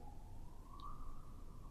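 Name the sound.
siren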